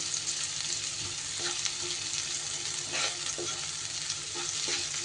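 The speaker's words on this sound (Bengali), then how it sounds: "এইবার পেঁয়াজটা একটু লাল লাল করে ভেজে নিতে হবে।" Chopped onions fry in a pan for an egg dish, giving a steady, close, dense sizzle with a few soft stirring scrapes and no voices.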